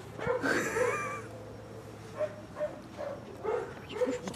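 A dog whimpers and gives a few short, soft barks and yelps in a room, rising at first, then coming in brief separate bursts over quiet background.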